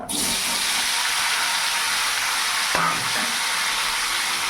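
Fried potato, pumpkin and drumstick stems tumble into a hot pan and sizzle steadily and loudly throughout, with one brief clatter midway.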